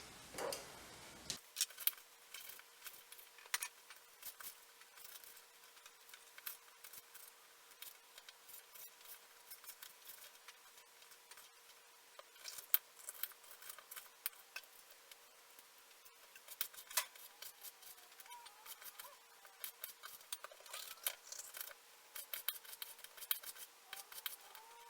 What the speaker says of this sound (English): I'm going to speed this up so you guys can see the whole chopping process